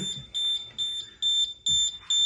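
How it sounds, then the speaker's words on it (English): A high electronic alarm from an ODS2 oil leak detection system, set off by liquid at a sensor, beeps in a steady repeating pattern, about five short loud tones, close by with no one talking. "obviously the alarm will go off and it will tell you it's in zone 1"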